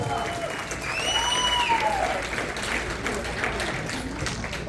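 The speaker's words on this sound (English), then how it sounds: "Round of applause" Steady applause from a gala crowd fills the room after a speaker, with a few whoops and whistle-like cheers rising over the clapping.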